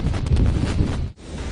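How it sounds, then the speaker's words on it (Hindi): Strong wind roars and buffets the microphone in Mumbai during Cyclone Nisarga, a dense steady rush with a brief dip near the end and no voices. "लगातार भारी बारिश हो रही है, तेज हवाएं चल रही हैं"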